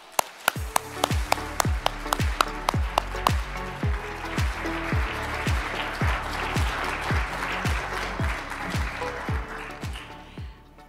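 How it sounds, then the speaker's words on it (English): An audience applauds a lecturer at an economics assembly lecture. The clapping is steady and sustained, with a few sharp, loud individual claps standing out early on, and it continues for about ten seconds. "Thank you for this applause."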